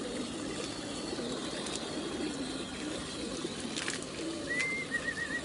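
Pigeons at a water and feeding stop with a trailer of birds, soft cooing and a few faint calls over a low steady outdoor murmur, with light scattered clicks and rustles.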